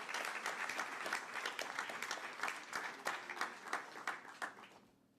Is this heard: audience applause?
yes